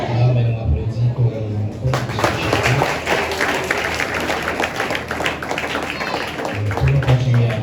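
Church congregation applauding together at the close of a service, a dense steady patter of many hands that swells after a quiet start and continues under a voice and low background music.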